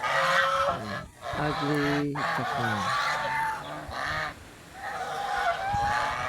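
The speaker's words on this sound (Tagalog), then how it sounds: "Ang bagong anak ng bagong pisa. Gansa." Domestic white geese, a flock with newly hatched goslings, honk in repeated nasal calls, several birds close by against a steady outdoor background, while a person speaks briefly.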